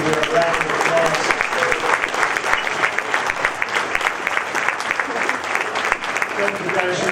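Sustained applause from a crowd at a school senior athletic breakfast fills the whole stretch, steady dense clapping with some voices mixed in.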